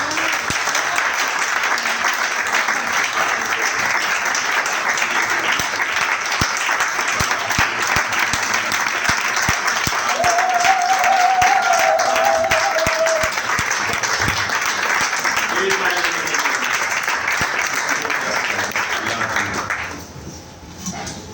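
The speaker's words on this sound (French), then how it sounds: "Est-ce qu'on va encore acclamer Jésus?" Sustained applause from a church congregation fills the space, broad and steady, with a brief high tone partway through, then it fades out near the end.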